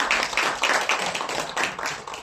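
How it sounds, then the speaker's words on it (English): An audience claps at a graduation ceremony, a close, lively stretch of rhythmic hand clapping in uneven bursts, fairly loud and steady without voices. "Come on, clap for her"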